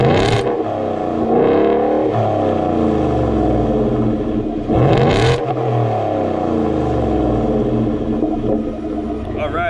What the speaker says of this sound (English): let's go hop in the truck and get some revs for you